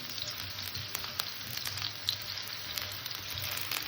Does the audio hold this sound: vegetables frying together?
yes